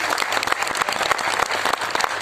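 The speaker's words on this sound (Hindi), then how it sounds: "इनके लिए एक जोरदार तालियां हो जाए।" A seminar crowd in Delhi gives a loud, dense burst of applause for a product presentation, with many hands clapping in an even, continuous roar throughout.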